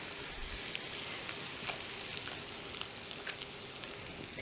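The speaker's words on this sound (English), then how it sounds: "You can hear that sizzling in the pan already." Cornbread batter just poured into a hot cast iron skillet, giving a steady fine sizzle with scattered small crackles and pops, close and constant.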